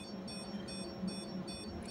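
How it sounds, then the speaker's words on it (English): A Meatest 9010+ multifunction calibrator sounds a steady, faint electronic tone with slight regular pulsing as it switches to a higher voltage output, heard alone without talk. "It is also giving beep to ensure that we are going to the higher voltage"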